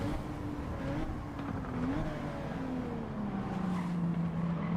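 Car engine in Gran Turismo 7 during a WTC 600 race, a steady droning revving tone that rises and shifts pitch as it winds up, moderately loud and continuous with no talking.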